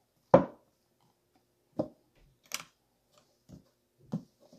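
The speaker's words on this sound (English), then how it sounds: "I'm going to cut the deck." A tarot deck being cut by hand, heard as a handful of separate soft card taps and shuffling clicks spaced across a few seconds, close and fairly quiet with no talking.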